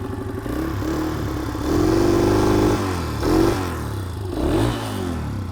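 A cold Honda CRF150 dirt bike engine idles steadily on choke while warming up, close and loud, its pitch rising and falling briefly in three gentle surges.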